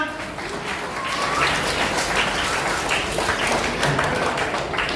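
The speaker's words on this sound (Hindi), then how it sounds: "इनके लिए जोरदार तालियां।" An audience applauds a prize winner at a chess tournament closing ceremony in Satna, a steady crowded patter of many hands clapping that swells slightly and carries on for several seconds.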